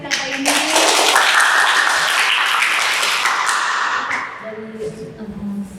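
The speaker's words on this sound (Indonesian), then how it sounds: "Boleh kasih tepuk tangan nggak sih buat Kakak ini?" An audience applauds a guest at a talk show about filmmaking, a dense burst of clapping that starts loud and fades out over several seconds, with voices talking beneath it.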